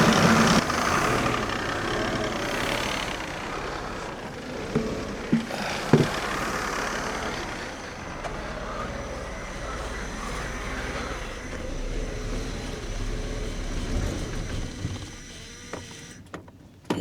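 A Mercedes coupe barn-find engine idles roughly and unevenly with a low rumble, a few faint clunks along the way, then sputters and dies near the end.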